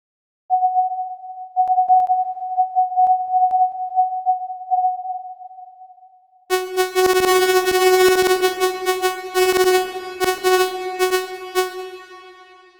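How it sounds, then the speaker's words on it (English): A Breather VST plays a pure sine tone for several seconds, then switches to a bright, buzzy saw wave at a lower pitch. Both tones are steady and sustained, pulsing slightly in loudness. "Here it is used to compare the sound of sine waves versus saw waves."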